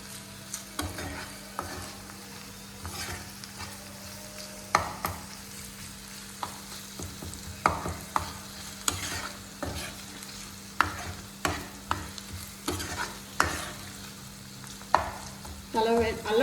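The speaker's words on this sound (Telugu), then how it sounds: "అల్లం వెల్లుల్లి పేస్ట్ పచ్చి అనేది లేకుండా మనం నూనెలో వేపుకోవాలన్నమాట" Ginger garlic paste fries in hot oil for a restaurant-style chicken curry, a constant soft sizzle broken by repeated, irregular scraping strokes of a spoon stirring in the pan, close up with no talking.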